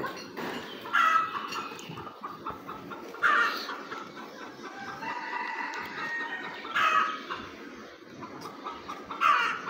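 Chickens cluck in a busy stretch, with louder squawking bursts every few seconds over a steady background din.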